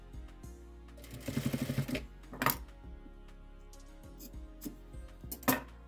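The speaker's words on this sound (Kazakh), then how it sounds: "Енді осыны дәл басындағыдай 4 жағынан қайтадан көк түсті матамызбен толық айналдырып тігіп шығамыз" A sewing machine stitches blue fabric around four sides, in short quick bursts of rapid clatter separated by pauses and soft handling clicks, close and fairly quiet.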